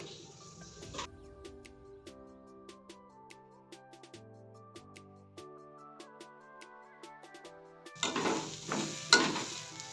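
Lobia ingredients fry and get stirred in a pan, with a loud sizzle heard briefly at the start and again near the end, separated by soft melodic music playing alone.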